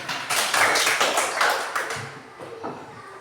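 A school class claps together in a room, a burst of scattered hand clapping that peaks early and trails off into a few lighter claps.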